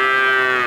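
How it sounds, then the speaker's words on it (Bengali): A dairy cow kept with her young bull calf at a cattle market gives one loud, close, sustained moo that holds steady and rises slightly at the end. "সুপ্রিয় দর্শক আপনারা দেখতে পাচ্ছেন এইদিকে একটা চমৎকার গাভী"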